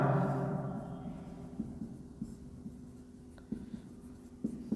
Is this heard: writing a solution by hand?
yes